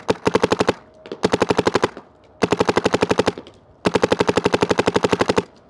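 A paintball marker fired at a center target in rapid strings: four bursts of sharp, evenly spaced pops, each lasting under a second to well over a second, separated by brief gaps, loud and close.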